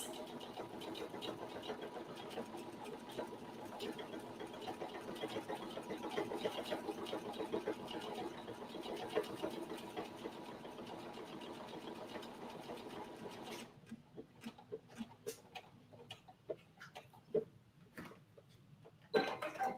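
A sewing machine runs steadily while stitching a buttonhole in fabric for a simple shoe bag, a continuous close whir that stops partway through, leaving scattered clicks and small handling noises.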